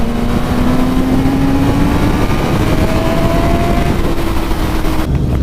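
A 2019 Suzuki Katana motorcycle is ridden on wet, twisty roads, its engine drone steady and loud throughout, mixed with broadband road and wind roar and a faint rising engine tone.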